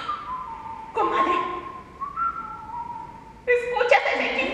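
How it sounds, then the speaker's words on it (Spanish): A person whistles a few sustained, wavering tones that bend in pitch, loud and close, in short phrases separated by brief pauses. "¿escuchas ese chiflido?"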